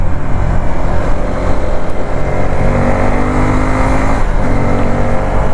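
A Suzuki Gixxer SF250 motorcycle engine runs steadily up close, its deep exhaust rumble loud and continuous with no talking.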